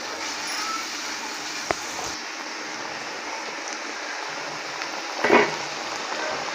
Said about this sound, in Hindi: दाल हमारी भुन गई है।